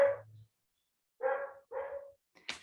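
A dog barks four times in short, separate bursts, fairly close and alone, with quiet gaps between the barks and a higher yip at the end.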